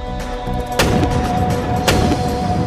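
Two heavy booms of cannon fire about a second apart, each followed by a rumbling roar, loud over a constant background din.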